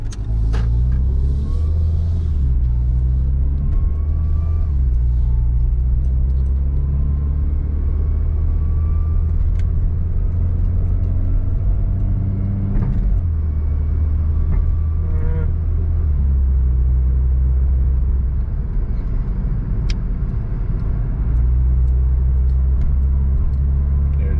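MK5 Volkswagen Golf climbing a steep hill after a U-turn, its engine droning low and steady with rising and falling revs and gear changes, road rumble continuous throughout from inside the cabin.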